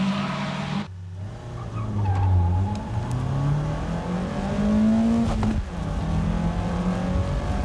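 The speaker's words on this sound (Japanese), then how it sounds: "さあスタートのリプレイを田辺 NX の車載で見てみよう" Race car engines of an Opel Kadett, Peugeot 205, VW Golf, Nissan Pulsar, Honda Integra and Nissan NX roar and rev at close range from onboard the NX at a race start, tires squealing and pitch rising as the cars accelerate away together.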